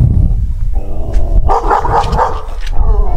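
A dog barks and yips excitedly while playing with a soft ball that is kicked for it to catch in its mouth, the barks loud and close over a voice talking in the background.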